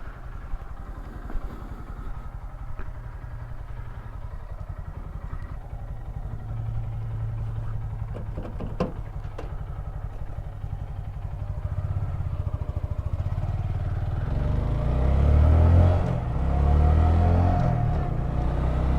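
A Honda Grom motorcycle engine idles with a steady low rumble, then revs up louder near the end, with occasional clatter nearby.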